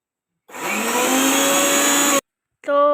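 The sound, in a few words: mixer grinder grinding ginger, garlic and green chili paste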